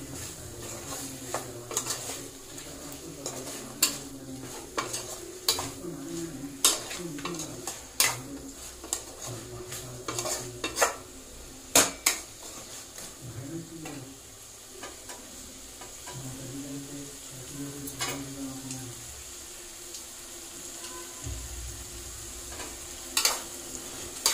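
Chicken curry with mint is stirred in a pan, a spoon scraping and clinking against the metal in irregular strokes over a soft, continuous sizzle, with a few sharper knocks scattered across the stretch and no talking.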